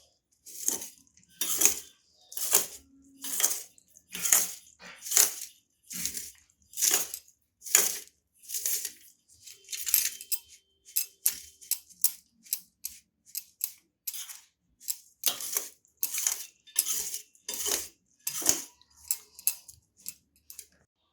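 A spoon stirs turmeric and chili powder into a chana-moong paratha filling in a bowl, making a steady series of crisp, regular scraping clinks about once a second, close and clear, with brief pauses.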